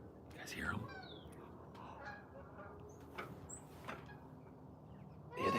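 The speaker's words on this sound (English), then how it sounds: "I love geese." Canada geese honking as they fly overhead, several distant calls rising and falling over quiet outdoor ambience, faint and fairly far away.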